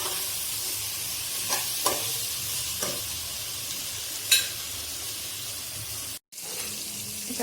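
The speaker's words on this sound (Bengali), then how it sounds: "এটা অনবরত একটু নাড়তে হবে, এটা লেগে যাচ্ছে।" Spice paste for an elish fish head and man kochu stalk dish sizzles in a pan, giving a steady frying hiss broken by a few scraping stirs and one brief dropout.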